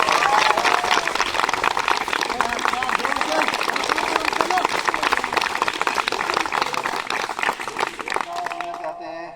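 Audience applauding students at a school ceremony honouring Class 10 results, dense steady clapping throughout, loud and continuous before fading at the end with a voice.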